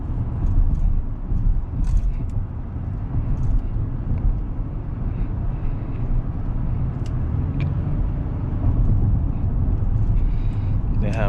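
Steady synthetic engine note fills the cabin of a 2022 Acura MDX A-Spec SH-AWD SUV under way, a low constant drone with road rumble and a voice speaking over it.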